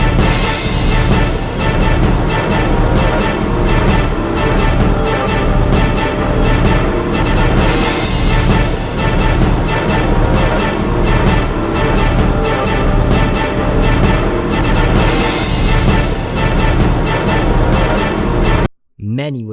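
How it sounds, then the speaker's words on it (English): Drakengard video game soundtrack: classical music chopped up and remixed in hip-hop style. A loud, dense, looping beat pulses steadily with voice-like layers, then cuts off abruptly near the end. "This chopping down and remixing classical music resulted in a totally awesome sounding soundtrack"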